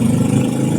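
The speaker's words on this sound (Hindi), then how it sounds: "बगल से गाड़ी जा रही, कितनी गंदी आवाज़ कर रही है।" A vehicle passing close by with a harsh, rough engine roar, loud and continuous with a heavy low rumble throughout, alone with no talk.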